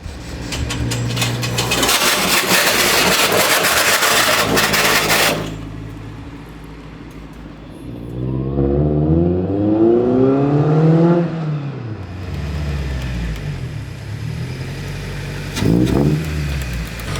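A Toyota Tacoma truck revs loudly for several seconds, then its engine note rises and falls as it pulls away, fading to a quieter idle-like drone with one more short rev near the end.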